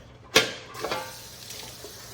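Food is dropped into a hot pan, giving a sudden loud hiss that settles into a steady, quieter sizzle with a few light scrapes, and no one talks.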